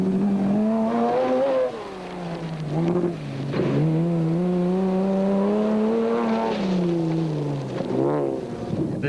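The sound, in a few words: off-road rally cars racing on dirt tracks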